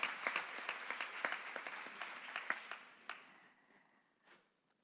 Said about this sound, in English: I think a big hand of applause for that